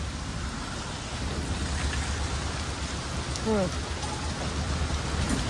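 Steady rain at Dighi Koliwada hisses and patters continuously, a dense wash of drops on surfaces heard from shelter under a tree, with a brief chirping call near the middle.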